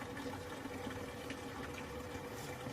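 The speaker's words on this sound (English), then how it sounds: "we are now filling again for a second rinse" A Panda PAN56MGP3 portable compact washing machine fills with water for its second rinse, giving a steady, even rush of running water and pump hum that holds at a constant level with no breaks.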